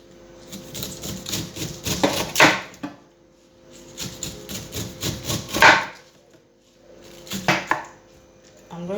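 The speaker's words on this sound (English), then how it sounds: "I'm going to cut my pineapple back into little pieces, little chunks" A knife chops pineapple peel into small chunks on a board, giving repeated bursts of crisp, close cuts in three quick rhythmic runs separated by short pauses.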